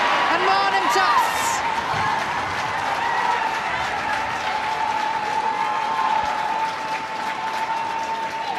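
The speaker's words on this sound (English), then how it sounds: "Well, the applause is ringing out." Stadium crowd at a Women's FA Cup match between Arsenal and Tottenham applauding and cheering in a broad, sustained roar that holds steady throughout, with a commentator's voice faintly under the noise.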